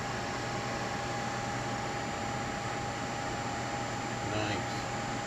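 A repaired shop furnace runs with a steady, broadband roar and a constant tonal hum, unchanging throughout apart from a faint brief clink near the end.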